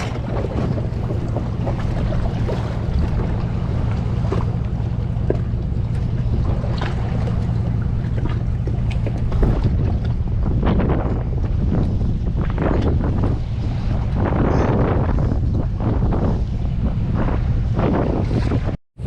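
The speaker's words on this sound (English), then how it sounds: "And this wind's a pain in the ass." Gusty wind blows on a lake while kayak fishing from a Kaku Guru kayak, buffeting the microphone in a steady loud rush, with water sloshing underneath, until it cuts off abruptly at the end.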